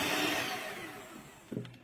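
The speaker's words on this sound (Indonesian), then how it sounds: "Kemudian di mixer kembali dengan kecepatan paling rendah sebentar asal tercampur" An electric mixer whirs at its lowest speed through cake batter, giving a soft, steady motorized hum that fades slightly before a brief clunk near the end.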